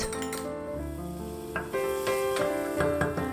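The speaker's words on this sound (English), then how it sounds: "Add the rest of the garlic and the ginger. Stir fry for about 1 minute" Garlic and ginger stir-fry in hot vegetable oil in a saucepan with a steady sizzle, while a utensil clinks and scrapes against the pan now and then; musical tones run underneath.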